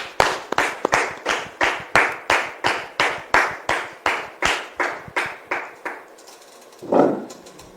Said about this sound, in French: Merci de recevoir notre frère Didier sous vos applaudissements